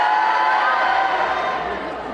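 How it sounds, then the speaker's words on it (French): Audience at a geek convention cosplay contest shouting and cheering together, a loud sustained roar of mixed voices and whoops that eases slightly toward the end. "Vous savez crier?"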